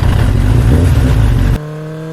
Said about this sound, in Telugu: వెంటనే నా బైక్ స్టార్ట్ చేశాను